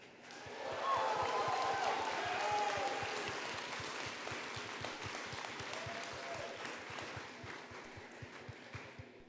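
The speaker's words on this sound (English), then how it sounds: "Give a round of applause for Crystal Brackage Designs." Audience applause at the opening ceremonies of an anime convention, Anime NebrasKon 2025, for a fashion designer. Dense clapping swells in the first few seconds and then thins toward the end, with voices in the crowd underneath.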